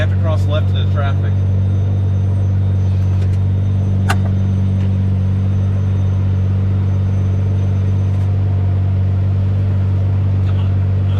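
Deep, steady engine hum and rumble from a Lamborghini Murcielago idling and creeping forward into traffic, constant and loud, with a voice talking briefly at the start.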